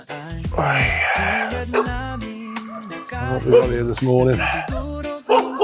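Several village dogs barking and yelping nearby at five in the morning in a rural Philippine neighbourhood, with someone speaking over the barking, repeated loud barks in uneven bursts.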